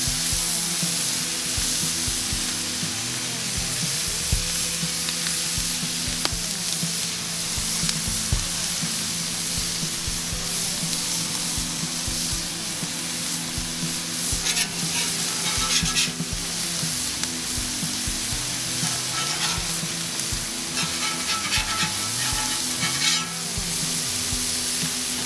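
Salmon and skirt steak sizzle steadily on a Blackstone griddle, a constant loud frying hiss close by with occasional scraping and stirring of a spatula over the flat top.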